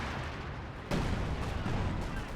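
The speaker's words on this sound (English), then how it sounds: "Artillery coming on in." Heavy artillery fire in the Company of Heroes 2 strategy game, a sudden loud blast followed by sustained rumbling barrage and further distant impacts, with no talk.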